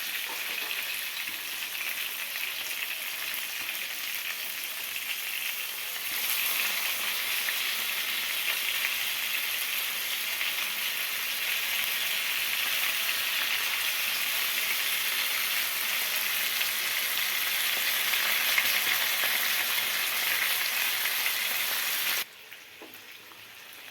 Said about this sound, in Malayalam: അപ്പോൾ ഓരോ പീസ് മറിച്ചിട്ട് നമുക്ക് ഫ്രൈ ചെയ്തെടുക്കാം